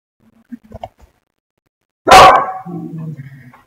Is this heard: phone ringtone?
no